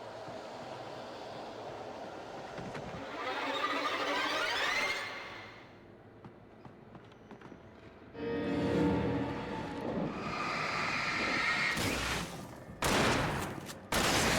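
Shotgun fire in the video game Alan Wake comes in loud, heavy booming bursts against rumbling game ambience, with several blasts clustered near the end of the clip.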